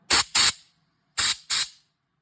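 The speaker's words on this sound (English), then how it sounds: "I like to take the speed blaster and just give it a tap" A speed blaster sandblaster fires two pairs of short, sharp air blasts at a car patch panel to strip weld-through primer, each burst a loud hiss that stops abruptly, with silence between the pairs.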